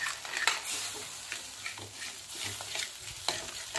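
Ground spices roast with a splash of water in a pan for a drumstick and potato bhaji, giving a soft sizzle with scraping stirring strokes and light clinks, close and continuous.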